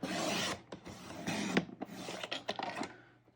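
Paper being trimmed for a planner, a series of close, dry scraping and cutting strokes in short bursts with brief pauses between them.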